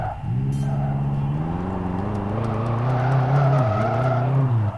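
Lada car in the Live for Speed racing game, its engine droning loudly and steadily while tires skid and squeal throughout, with rising and falling engine tones and no talking.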